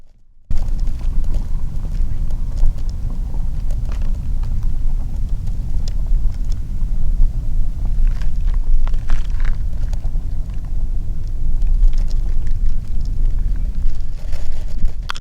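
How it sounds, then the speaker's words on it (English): Cars passing in the background outdoors during a nature field recording, heard as a steady, continuous low traffic rumble that runs the whole length, fairly distant and unbroken, with some wind mixed in. "I can actually hear the cars coming by in the background"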